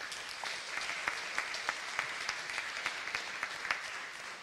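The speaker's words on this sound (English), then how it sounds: "So give yourself a round of applause for that." Attendees at a Cardano constitutional convention applaud faintly, with a handful of distinct, rhythmic claps standing out over a softer bed of scattered clapping.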